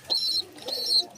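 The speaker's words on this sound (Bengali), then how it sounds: "প্রতিটা কবুতর মাশাল্লাহ আমার অনেক সুন্দর" Pigeons kept in a home loft, plump and healthy birds feeding their young, give two short cooing and fluttering calls close by, one after another with a brief gap, and no voices.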